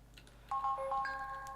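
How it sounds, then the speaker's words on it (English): A mobile phone ringtone goes off partway through, a bright electronic melody of steady beeping tones that keeps going to the end over a faint low background hum. "my phone's going off"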